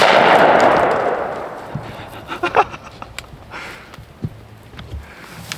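A gunshot fired at a wild Merriam's turkey gobbler during a public-land spring hunt, a loud broad blast at the start that rings out and fades, followed by faint rustling and small knocks outdoors.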